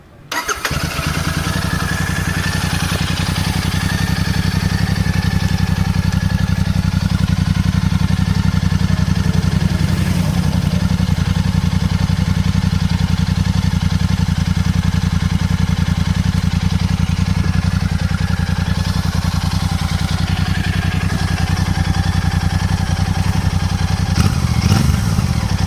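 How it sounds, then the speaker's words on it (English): A 2025 Royal Enfield Super Meteor 650 motorcycle engine starts and settles into a steady, loud, rumbling idle that runs throughout, with a brief blip near the end. "Let's hear the exhaust note of this vehicle."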